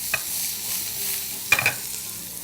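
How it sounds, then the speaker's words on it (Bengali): Prawns fry in a pan with a soft continuous sizzle, broken by two sharp metallic clinks and scrapes of a spatula turning them, near and without talk. "চিংড়িটা আমাদের কিন্তু প্রায় ভাজা হয়ে গেছে"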